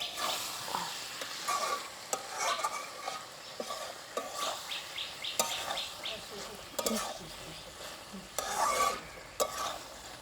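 Pork intestine and liver frying in a wok, stirred with a utensil that scrapes and clinks at irregular intervals over a steady low sizzle, recorded close but fairly quiet.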